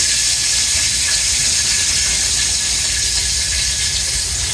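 A bay leaf sizzles in hot oil in a heated kadai, with chopped onion about to follow. The sizzle is a steady, loud, hissing crackle that holds evenly throughout, with no voices.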